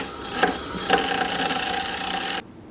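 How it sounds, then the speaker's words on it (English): A grinding wheel dresser cleaning the grinding wheel of a Consew DCS-S4 sharpener, applied at low speed with a light touch, gives a continuous rough scraping rasp for about two seconds that cuts off abruptly, with no talking. "you can use the grinding wheel dresser to clean that off a little bit"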